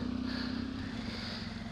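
A BMW off-road motorcycle engine holds a steady, buzzing rev as the rear wheel slides sideways on wet, muddy ground, a close, droning tone that dips slightly partway through.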